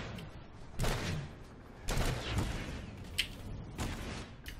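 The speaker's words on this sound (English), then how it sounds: "I think someone's shooting rockets at me." Distant rocket fire and explosions aimed at a player in an online shooter battle at Amerish, several dull booms and whooshes spaced a second or so apart over steady rumbling background din.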